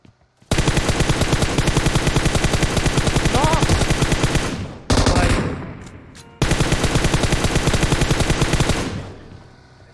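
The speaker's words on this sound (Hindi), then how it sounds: "अबे मेरा गोली नहीं रुक रहा है यार ये वो ग्लिच हो गया भाई अबे ऑटोमेटिक गोली चल रहा है" Automatic gunfire keeps firing nonstop in a PUBG Mobile match because of a glitch: loud, rapid bursts close up, broken by two brief gaps, with no talk over them.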